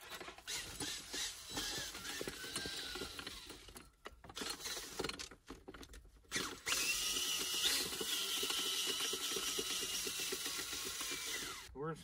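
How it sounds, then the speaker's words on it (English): An electric fence wire winder reels in wire on a farm with cows, giving a steady mechanical ratcheting whir that runs through most of the stretch, with brief pauses and a louder, denser section toward the end. "Maiden voyage for the new wire winder."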